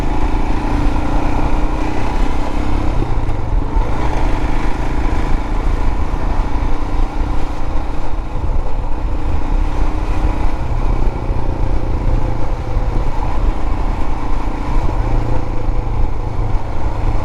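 A Royal Enfield motorcycle engine running, a loud, steady, thumping idle with mechanical clatter, close by and continuous throughout with no voices.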